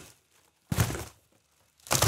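Cardboard box of a Corsair Vengeance K70 mechanical gaming keyboard being handled during unboxing: two short bursts of crinkling and scraping cardboard, close and fairly loud, separated by near silence.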